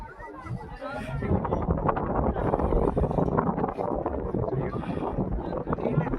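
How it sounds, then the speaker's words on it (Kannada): Strong wind on the top of Shivagange hill roars and buffets the microphone in a continuous low rumble, with muffled voices faintly underneath. "ತುಂಬ ಗಾಳಿ ಬೀಸ್ತಾ ಇರುತ್ತೆ"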